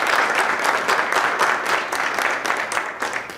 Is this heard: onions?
no